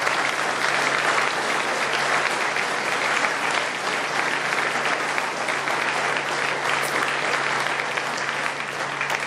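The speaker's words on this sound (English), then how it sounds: "let's give one more last ovation to this remarkable class, to our special award winners, and to our inductees" Audience applause for Hall of Fame inductees and special award winners at a 2023 Cal Aggie Athletics ceremony, a dense, steady ovation of many hands clapping together at full volume throughout.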